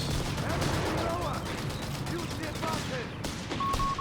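Continuous battlefield gunfire in Company of Heroes 3, a match between Wehrmacht and British forces, dense overlapping shots and machine-gun fire with a commentator talking over the din.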